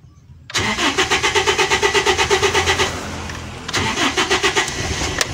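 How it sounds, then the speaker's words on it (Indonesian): A 1995 Toyota Kijang Grand Extra with a 1.8 engine cranks with a rapid rhythmic whirring starter, then catches and settles into a steady idle, briefly swelling again near the end, heard close and loud. "baru kita hidupkan mesinnya."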